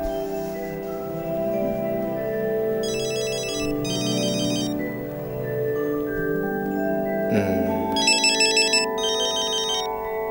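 A telephone ringtone plays a bright, repeating electronic melody in several short bursts, sounding clearly over soft background music.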